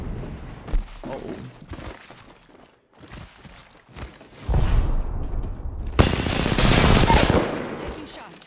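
Video game gunfire, with scattered sharp shots and short bursts early on, then a dense, loud stretch of rapid firing and impacts near the end, with a voice speaking briefly in between.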